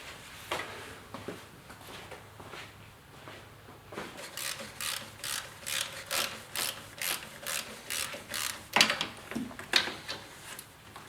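A hand ratchet clicks in rapid, even strokes while loosening alternator bolts on a 2008 Chevy Colorado, close-up and fairly quiet, with a few scattered metallic clinks and pauses between runs.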